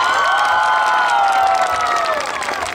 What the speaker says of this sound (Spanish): este es el aplauso que el Perú tiene para ti